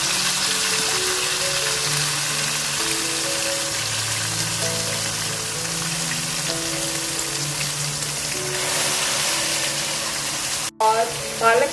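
Spinach and dried fenugreek frying in a pan, a loud steady hiss and crackle of sizzling oil that holds throughout, with a brief clatter near the end.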